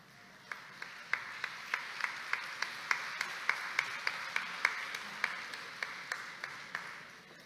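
Crisp, evenly spaced claps ring out in a hall at a professional association's induction ceremony as an engineer is welcomed to the stage; about twenty distinct hand claps sound at a steady, moderate pace.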